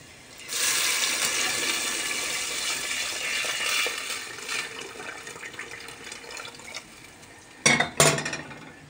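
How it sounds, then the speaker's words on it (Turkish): Warm water poured into a cooking pot for a garlic-vinegar meatball stew, a steady broadband splashing rush lasting several seconds, then a couple of brief sharp clanks near the end, with no talking. "Ve ılık su veriyorum."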